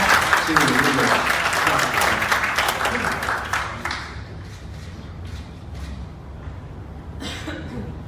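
An audience at a partnership signing ceremony applauds to welcome a Chinese company CEO to the stage: loud, dense clapping that fades after about four seconds into scattered claps, a cough and murmuring, with a brief burst near the end.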